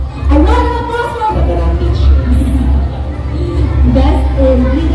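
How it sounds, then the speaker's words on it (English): An audience at a school alumni homecoming coronation night claps and cheers, with loud crowd noise, shouts and excited voices mixing together under an announcer speaking over a PA. "A round of applause for"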